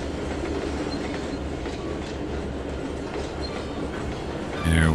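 Train cars rumble past with a steady rolling clatter, a sustained mid-distance roar of wheels on rails.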